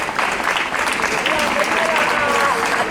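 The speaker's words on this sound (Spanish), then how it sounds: "Un aplauso para José María, otro vecino de Peñuelas." Steady, dense applause from an audience welcoming a speaker at a popular tribute to Benito Pérez Galdós, filling the room evenly for the full three seconds, with faint voices underneath.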